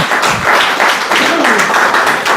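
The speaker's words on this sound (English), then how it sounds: "Let us give a clap to all the three presenters." Audience clapping for three presenters at the close of a morning session, a loud, dense burst of applause filling the room with no pause.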